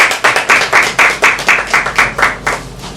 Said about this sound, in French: Ça s'applaudit s'il vous plaît.